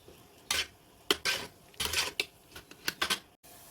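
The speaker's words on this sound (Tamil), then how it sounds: "இப்போ இதை ஒரு தடவை நல்லா இப்படி கலந்து விட்டுக்கலாம்." Spoon stirring turmeric in boiling water in a pot, several separate scraping and clinking strokes against the metal, close and moderately loud with short pauses between them.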